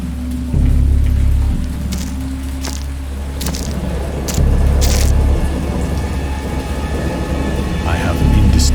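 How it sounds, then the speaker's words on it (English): Thunder from a stormy-night scene in a cosmic horror visual novel rolls in low, heavy rumbles, with a steady hiss of rain and scattered sharp cracks running underneath. "I know that I heard pearls of thunder and other tones which nature utters only in her wildest moods"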